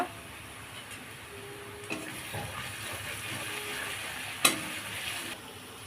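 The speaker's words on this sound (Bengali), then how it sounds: "হাফ চামচের মতো লঙ্কার গুঁড়ো দিয়ে ভালো করে কষিয়ে নেব" Garlic sizzling in oil with turmeric and chili powder, a soft continuous crackle with occasional stirring clinks and one sharp knock near the end, close and fairly quiet with no talking.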